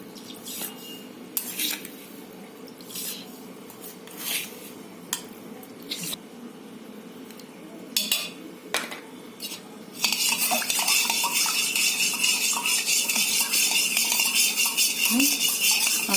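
A metal spoon scoops sugar into spiced buttermilk, making scattered close clinks and taps against the vessel, followed by a loud, steady rushing hiss over the final seconds.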